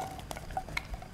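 Onion frying in oil in a pan for a green fava bean dish, a brief soft sizzle with a few light stirring clicks, close and quiet.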